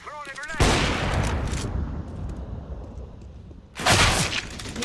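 Grenade blasts in a shooting video game, a sudden loud boom with a long rumbling decay, followed by a second sharp burst near the end, with a voice talking briefly at the start.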